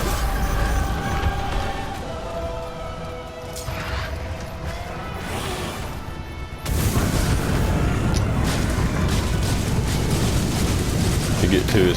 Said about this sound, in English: See, there's the next flame attack.